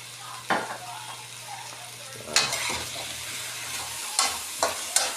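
Pork sautéing in a pan for Filipino afritada, with a steady sizzle and fry throughout, punctuated by several sharp clanks and scrapes of a utensil stirring against the pan.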